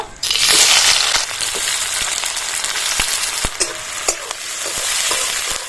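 Onion goes into hot oil in a wok and sizzles with a loud burst at first, then settles into a steady close frying hiss with occasional spatula taps and scrapes.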